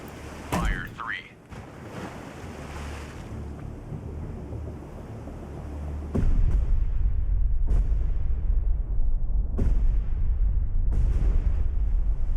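Depth charges exploding in a WWII destroyer U-boat hunting game, heavy booms with a roar that persists, followed by several sharp blasts at regular intervals over a constant rumble of the ship.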